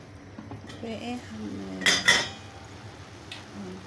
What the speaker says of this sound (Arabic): اغطيها بقى شويه كده